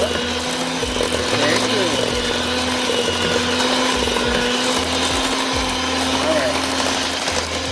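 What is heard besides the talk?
electric mixer mixing vanilla into oatmeal raisin pecan cookie dough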